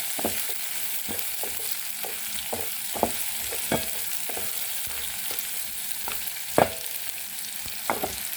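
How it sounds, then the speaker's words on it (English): Beef pieces fry with spring onions in a pan, a continuous sizzle under repeated scraping strokes of a stirring utensil, close and fairly loud, with no talking. "So let's keep stirring them so that at least the meat pieces can absorb the onion's flavor."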